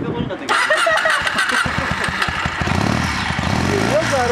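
A Kawasaki W400 motorcycle engine cranks and fires up, then settles into a loud, throbbing idle with uneven revs close by, as a voice talks over it.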